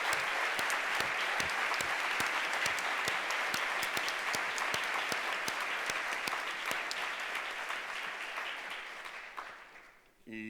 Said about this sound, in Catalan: Un aplaudiment per tots ells i el nostre agraïment.